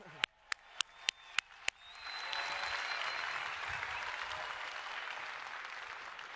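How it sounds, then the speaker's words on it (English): Applause from an audience at a company event: a few sharp separate claps at first, then a steady, fairly distant wash of clapping that holds to the end. "Please give them a round of applause."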